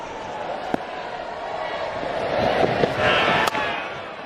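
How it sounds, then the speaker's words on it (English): A large crowd at a Hundred men's cricket match swells into a Mexican wave, the roar building and rising in the second half over a steady stadium din, with a few sharp knocks along the way. "now we've got an orange Mexican wave"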